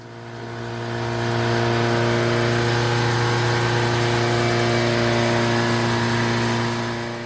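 A 1.6-liter turbocharged drift Miata runs on a dyno, its engine holding a loud, steady drone with strong low harmonics that swells in over the first seconds and stays constant before easing slightly at the end.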